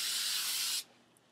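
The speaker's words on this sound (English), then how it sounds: "then I get my Tresemme spray, or any spray you feel comfortable. And then you just lightly spray it." A can of Tresemme hairspray releases a steady, bright hiss onto hair for just under a second, then cuts off cleanly into quiet.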